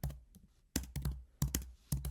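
A computer keyboard typed on in a few short clusters of soft, close clicks with brief gaps between them, quiet overall.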